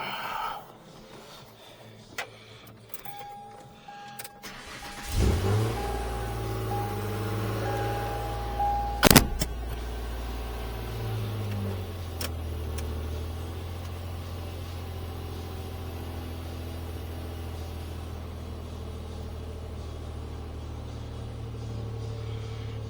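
A car engine turns over and catches in the middle, then settles into a low, steady rumble that keeps running, with a sharp clank partway through and no talking.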